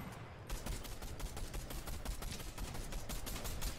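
Rapid automatic gunfire in the Fortnite battle royale game, a dense, continuous stream of loud shots lasting several seconds with no pause.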